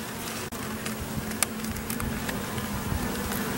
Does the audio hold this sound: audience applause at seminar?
no